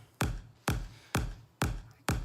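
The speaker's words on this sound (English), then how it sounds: "And if I uncompress this is what it would sound like." Uncompressed kick drum from a dance music mix, four punchy evenly spaced thumps with short decaying tails, loud and isolated with no talking.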